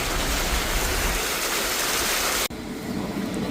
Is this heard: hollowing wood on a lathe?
no